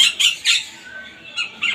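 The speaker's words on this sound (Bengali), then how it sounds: "এখানে আরো একটি পাখি।" A brightly coloured bird in a garden aviary gives several sharp, harsh squawks in quick bursts, close and fairly loud, with short pauses between calls.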